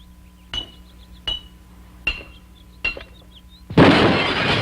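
Glass bottles struck by gunfire at a shooting practice, four sharp clinking impacts at steady intervals followed by a loud, sustained shattering crash.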